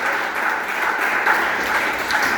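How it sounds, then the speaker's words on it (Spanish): Congregation at a church worship service claps for the King of Kings, a steady, fairly loud wash of many hands clapping in a reverberant room, without voices on top. "A su nombre, dé palmas al Rey de Reyes y Señor de Señores."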